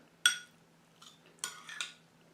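A spoon stirs brown rice with a small pat of butter in a bowl, making a few separate, sharp clinks and scrapes against the dish with quiet pauses between them.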